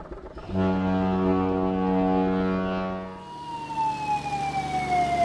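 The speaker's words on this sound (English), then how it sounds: "Boat." A boat horn sounds one long, loud, steady blast for about three seconds, followed by a fainter descending whistle-like tone and background noise.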